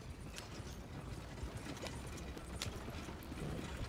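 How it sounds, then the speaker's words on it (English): Horse hooves clip-clop at a steady riding gait in the Red Dead Redemption 2 video game, a faint rhythmic clatter over soft background noise, with no speech. "Guess I should keep calling my horse as I ride along so that he ends up coming with us."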